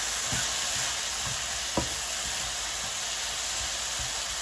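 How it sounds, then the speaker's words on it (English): Mushrooms sizzle and fry steadily in a frying pan, a constant hiss running throughout with soft scraping stirs at intervals and one sharper knock of the utensil against the pan partway through. "Now let's stir the mushrooms so they brown evenly."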